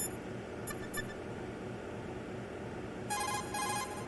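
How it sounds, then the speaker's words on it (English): Codec call ringing in the video game Metal Gear Solid 2: Sons of Liberty, a few short electronic beeps early, then a louder burst of rapid chirping tones near the end, alone over quiet background hiss. "Let's phone Stillman."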